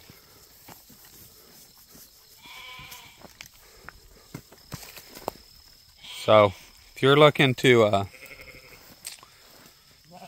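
A Kiko goat on a farm bleats loudly in a few close, wavering calls, with crickets chirping faintly in the background and someone speaking briefly.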